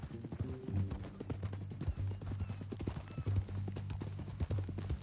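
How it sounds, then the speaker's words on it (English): Horse hooves in the video game Red Dead Redemption 2, a steady rhythmic clip-clop of walking steps, fairly close and moderately loud, continuing throughout with faint background sound. "That new horse?"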